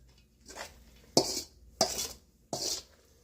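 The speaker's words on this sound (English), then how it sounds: "I'm going to stir this up, guys." Spoon scraping and clinking around a pot while a dish is stirred, three sharp bursts of metal-on-pot scrapes in a steady rhythm, close and fairly loud, with a softer stir just before.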